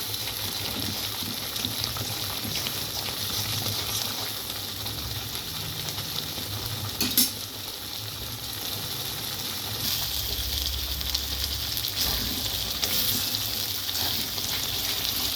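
Spice paste with cashews frying in a pan for a milk paneer dish, a steady broadband sizzle with soft scraping from continuous stirring, close and even throughout, with no talking.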